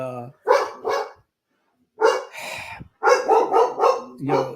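A dog barks close by in short bursts, a couple of single barks, a pause, then a quick run of several sharp barks.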